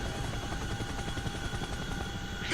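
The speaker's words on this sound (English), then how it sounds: "Helicopter, helicopter!" Steady, loud rotor drone of a helicopter flying in a combat flight-simulator game set in Helmand, likely a Chinook or Apache, holding constant throughout with a brief brighter swell at the very end; no talking.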